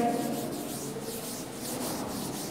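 Cloth or duster rubbing writing off a classroom board during a chemistry lesson, a steady scrubbing swish running continuously and close with no speech.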